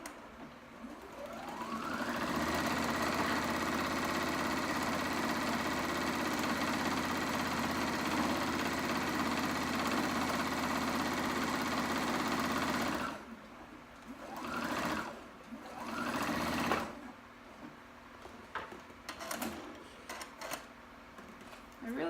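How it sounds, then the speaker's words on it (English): A sewing machine stitching fabric for a tulip project, running in a long steady whir for about ten seconds, then in shorter start-stop bursts, with a person talking in between. "sewing it together will be super easy"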